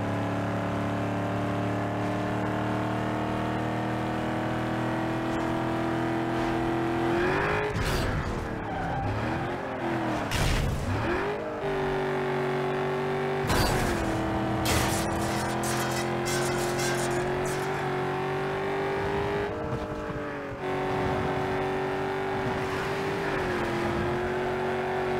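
A heavy SUV's engine drones steadily through a race in Need for Speed Underground 2, its pitch rising and falling with gear changes, broken by screeching skids and tire squeals at close range.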